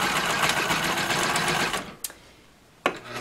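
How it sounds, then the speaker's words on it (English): An industrial sewing machine stitches a seam on a custom bench seat cushion, a loud fast whirring run for about two seconds, then stops, followed by a couple of short clicks and a brief restart. "I'm going to start a regular seam"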